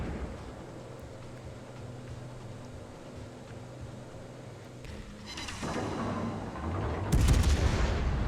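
Warship guns fire during a naval battle in World of Warships, aboard the cruiser Buffalo: a low engine rumble builds before a heavy, booming salvo erupts near the end.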